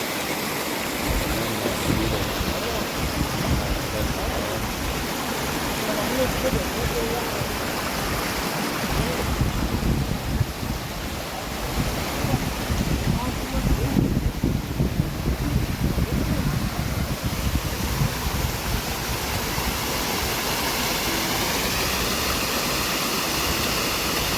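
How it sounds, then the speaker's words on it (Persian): Rushing water of a waterfall and stream in Harayerz forest near Nurabad Mamasani, Fars, a steady broadband roar filling the whole stretch, loud and close with no break. "صدای آب."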